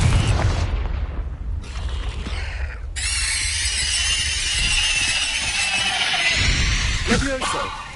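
Fiery Confringo blast spell from the Hogwarts Legacy video game on PS5, a loud booming burst with a rumbling, crackling tail that swells and holds for several seconds before fading.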